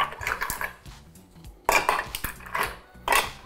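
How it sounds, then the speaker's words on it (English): Ice goes into a metal cocktail shaker tin in three clattering bursts: loud, close rattles and clinks, each dropping away before the next pour. "Then we're gonna add our ice to the tin."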